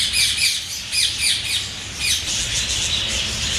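Pet birds in a breeding setup squawking loudly in repeated harsh bursts with chirps between them, close by, with no talking.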